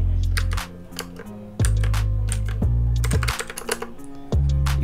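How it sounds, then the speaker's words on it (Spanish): Mechanical keys on a speaker's built-in keyboard are typed up close, giving a steady run of sharp clicks over a constant low electronic tone. "Ahora he acercado un poco el micrófono para que puedan escuchar mejor lo que sería el tecleo."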